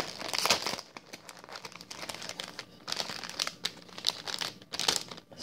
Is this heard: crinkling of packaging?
yes